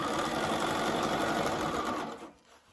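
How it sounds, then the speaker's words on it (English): A sewing machine stitching the curved fly piece of board shorts runs in a loud, steady whirring burst close by, then winds down and stops near the end. "You're only going to stitch through the fly or that curved fly piece."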